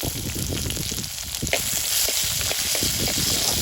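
Small onions and large onions hit hot oil with whole green chillies for a Jaffna village-style tinned fish curry, giving a loud, steady, close sizzle that never lets up, with no voices.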